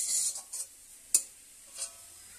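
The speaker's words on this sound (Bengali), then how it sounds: "একটু শাকটা নেড়ে নিলাম।" Pea-shoot greens are stirred in a cooking pan with a few quick scrapes and one sharp spatula tap over a faint background sizzle, sparse and close, with no voices.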